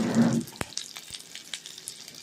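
Mustard seeds, urad dal, a dried red chili and two green chilies hit hot coconut oil with a loud initial hiss, then scattered sharp pops and crackles as the seeds sputter.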